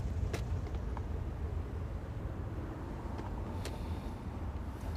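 Steady low engine rumble and road noise of a car driving, continuous and moderately loud inside the vehicle, with a couple of faint clicks and no talking.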